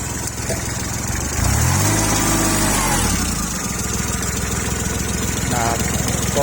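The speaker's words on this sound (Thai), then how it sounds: "มาดูเครื่องยนต์กันดูนะครับ" A tractor's diesel engine idles steadily and close by, with a low rumbling drone that holds throughout and a brief rise in pitch partway through; someone talks over it.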